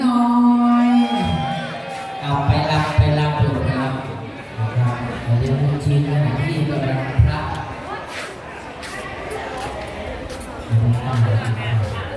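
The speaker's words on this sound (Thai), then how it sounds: "สองกลุ่มเลยปรบมือให้น้องอุ้งอิง" A crowd cheers and claps for the young girl Ung Ing, with whoops and a busy babble of voices rising over loud background music throughout.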